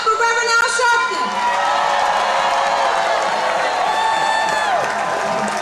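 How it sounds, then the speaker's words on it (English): A large crowd at a National Action Network rally on Staten Island cheers, whoops and applauds loudly and continuously, with a voice briefly heard over the roar. "Clap it up for Reverend Al Sharpton."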